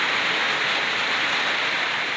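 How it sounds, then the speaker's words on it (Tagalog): Heavy rain pours down during a flood at a house, a dense, constant hiss that fills the whole moment, loud and close with no talk. "Ayan, lakas ng ulan."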